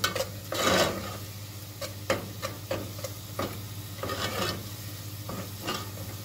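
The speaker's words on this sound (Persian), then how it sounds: "روپش هم سرخ کنیم که خوب قشنگ رنگ رو باز کنم." Tomato paste fries and gets stirred in a cooking pot, with a steady sizzle and quiet scraping and clinking of a spoon against the pot at irregular intervals, no talking.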